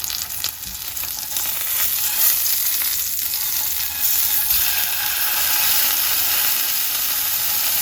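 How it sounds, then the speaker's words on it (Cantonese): Salmon fillet pan-frying on its second side, a loud continuous hiss and sizzle of oil filling the whole stretch, close and unbroken, with no talk. "咁我哋就煎埋佢背面先"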